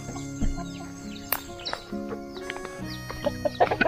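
Chickens roaming inside a newly built free-range chicken coop, with scattered clucks and short calls plus rustling and knocking as they move about, fairly close and without talk.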